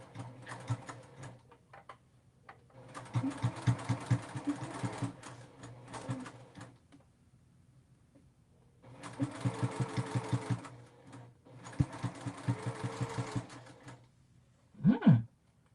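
A sewing machine stitches a double pocket folder in several runs of rapid, even needle clatter, separated by brief pauses and ending with a short mechanical whir.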